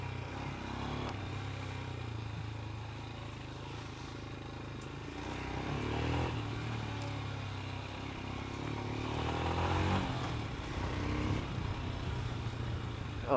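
A Royal Enfield Himalayan 411 motorcycle ridden off-road, its engine droning steadily with rises and dips in revs, joined by rattling and clatter over rough ground, close and continuous.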